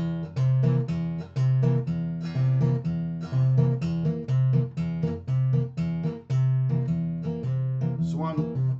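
A walking bass line plucked low on a guitar steps steadily in even, straight notes, one per beat, clear and unaccompanied at moderate volume.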